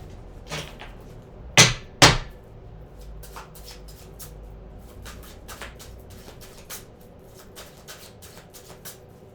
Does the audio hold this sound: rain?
no